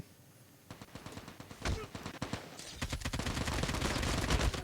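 Automatic gunfire in Call of Duty: Mobile battle royale, quick bursts building into a dense, sustained volley of close shots that grows louder toward the end.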